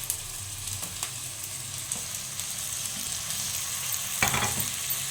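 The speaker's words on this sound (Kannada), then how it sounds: "ಈಗ ನಾನು ಎಣ್ಣೆ ಬಿಸಿಯಾದ ತಕ್ಷಣವೇ ಕಟ್ ಮಾಡ್ಕೊಂಡಿರೋಂಥ ಈರುಳ್ಳಿನ ಹಾಕೋತೀನಿ." Chopped onions fry in hot oil with a continuous close crackling sizzle, occasional spoon scrapes and taps breaking through, a louder stir near the end; no voices.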